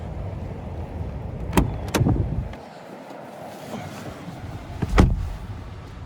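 A car door on a 2021 Hyundai Elantra SEL opens and shuts as someone climbs into the driver's seat, giving two sharp knocks followed later by a single firm slam, all close against a faint windy outdoor hiss.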